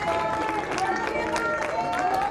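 Audience applause breaks out at the close of a Senate confirmation hearing for RFK, a steady patter of clapping in the room with people talking over it.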